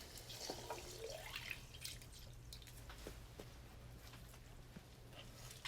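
Water drips from a wet tanned rabbit skin being wrung out, a few faint, sparse drops over a low steady background hum.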